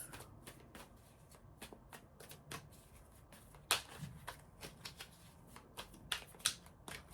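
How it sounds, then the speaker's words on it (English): Tarot cards being shuffled by hand in a quick run of crisp riffles and flicks, close up, with a few sharper snaps of cards striking together. "I'm going to do one more shuffle."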